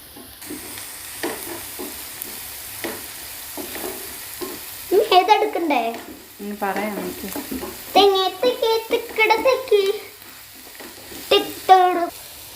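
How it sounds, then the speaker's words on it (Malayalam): Onions and green chillies for cutlets sauté in a pan with a soft, steady sizzle, broken by repeated scrapes and stirring strokes that grow louder and busier in the second half. "ഒരു ബ്രൗൺ കളർ ആവുന്ന അതുവരെ നമുക്കിതൊന്ന് വഴറ്റിയെടുക്കാം"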